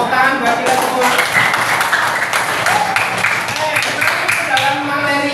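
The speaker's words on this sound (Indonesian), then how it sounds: "Tepuk tangan buat kita semua." A class of students clapping their hands together in a classroom, a busy run of sharp overlapping claps that continues steadily for several seconds under some talk.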